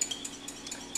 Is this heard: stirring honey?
yes